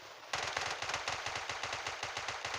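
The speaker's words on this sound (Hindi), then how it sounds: "वो बोट जा रही थी उस पे मैंने फायर किया पर कुछ हुआ नहीं" Rapid automatic gunfire in the mobile battle royale game PUBG Mobile Lite, a steady stream of close, loud shots fired in quick succession for over two seconds with no talking.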